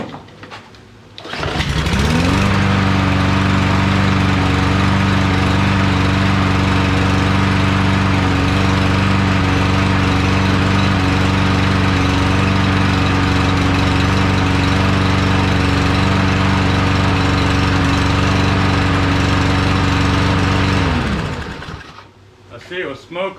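Briggs & Stratton lawn mower engine with a plastic carburetor starts up and runs at a loud, steady, buzzing idle for about twenty seconds close by, then cuts off and winds down.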